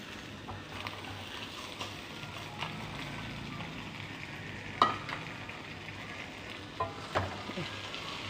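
Cooked jackfruit seeds stirred into a jackfruit-seed thoran in a pan, a quiet steady sizzle with a few scraping stir sounds and occasional sharp knocks of the spoon, no talk.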